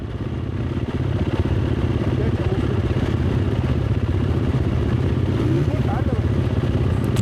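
An enduro motorcycle ridden across sand, its mid-pitched engine droning steadily with a fast pulsing beat and some clatter throughout.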